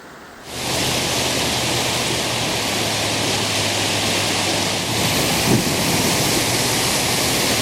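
Floodwater on the Blue River in southern Indiana rushes past at full force, a loud, continuous broadband roar that starts abruptly and holds steady throughout with no voices.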